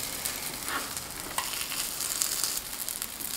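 A filled flatbread sizzles in an oiled frying pan just after being flipped. The frying is a steady crackle throughout, moderately loud, with no voices.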